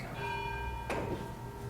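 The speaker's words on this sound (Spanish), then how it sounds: "siendo las 9 en punto, como las campanadas están señalando" Bells chiming nine o'clock at the close of a formal academic session and book presentation, ringing with steady sustained tones and one brighter strike midway, heard fairly faintly in a large room.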